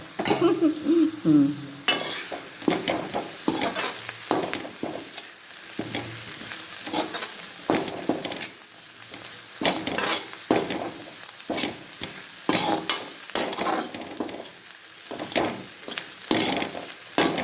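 Cauliflower sizzling and frying in a pan while a spatula stirs it, giving repeated scraping strokes in an irregular rhythm over a constant soft hiss, close up with no talking.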